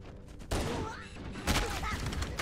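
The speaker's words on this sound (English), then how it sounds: "Oh my god, the pistol is so good." Pistol shots in Halo: Combat Evolved, two sharp bursts of gunfire roughly a second apart, loud and close over a layer of game ambience and effects.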